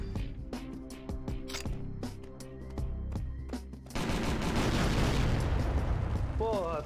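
In the video game Dead to Rights, gunfire crackles in quick shots before a loud explosion erupts into a sustained, rumbling roar of debris that fills the rest of the moment, with a voice speaking over the early part.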